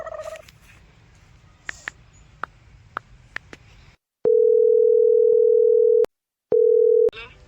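A few faint clicks, then a steady electronic phone tone sounds twice in long pulses with a short gap between them.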